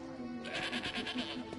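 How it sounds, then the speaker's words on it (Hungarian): A goat in a video game bleats in a series of quavering, pulsing cries, close and clear, over a faint game ambience. "Né, egy kecske."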